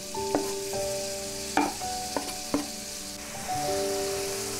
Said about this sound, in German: Als erstes brate ich jetzt mir meinen Speck.